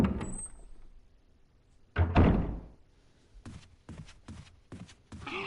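A door opens in the Resident Evil Remake video game with a heavy thunk and creak, after a quiet stretch, followed by a run of sharp, evenly spaced footsteps or knocks on a hard floor.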